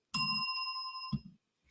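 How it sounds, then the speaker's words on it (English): A single bright bell ding sounds during a classic car question-and-answer show and rings out clearly for about a second before a soft knock. "Give you a bell for that, Rick."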